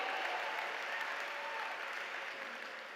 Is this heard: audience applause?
yes